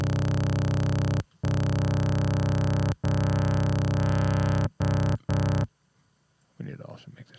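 Distorted synth sub oscillator in a music production session, a loud, dense buzzing bass drone held in long blocks cut by short gaps, then stopping, with faint talk afterward.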